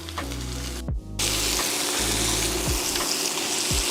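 Beef short ribs sizzle loudly as they sear on high heat in a hot pan, a constant crackling hiss punctuated by a few low clunks of the pan.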